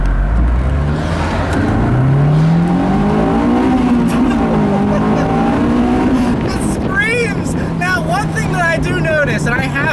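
A car's engine revs hard and accelerates up through the gears, loud and close throughout, with rising engine pitch sweeps; someone talks over it near the end.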